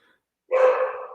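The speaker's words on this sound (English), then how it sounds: "Hang on, the dog's barking." A dog lets out a single bark, moderately loud and close, after a brief silence.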